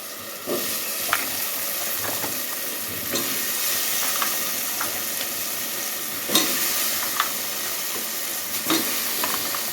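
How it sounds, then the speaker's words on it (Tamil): Steady sizzling and hissing from a hot pan sautéing carrots, beans and potatoes for kurma, with occasional scrapes and clinks of stirring over the continuous frying noise. "காயும் போட்டு நல்லா வதக்கணும்"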